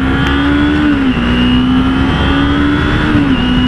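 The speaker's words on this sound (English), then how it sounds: "I hate diesel trucks" A diesel truck engine drones loud and steady close by in traffic, its pitch holding level with slight dips, heard while lane splitting on a motorcycle.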